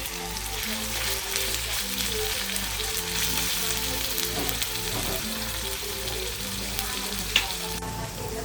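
Meat sizzles and fries steadily in hot oil for a sandwich filling, a dense, even crackle that holds close and continuous throughout, with a brief sharper pop near the end and no talking.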